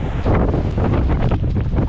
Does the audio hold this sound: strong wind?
yes